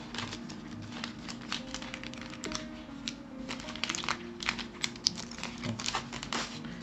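Scissors cut open the plastic packaging of an FFP2 face mask, producing a steady run of close crinkling, snipping and rustling sounds that lasts several seconds with no talk.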